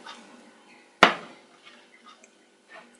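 A frying pan of yeast pancake batter is shaken once on the stove, giving a single loud metallic clatter that rings briefly and fades, with faint kitchen clinks afterward.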